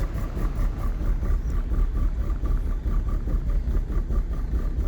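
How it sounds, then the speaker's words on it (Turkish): An old car's engine idles steadily, heard from outside through an open window, with a low, rumbling exhaust drone and a faint regular pulsing, continuous and fairly close throughout. "Egzozdan gelen ses."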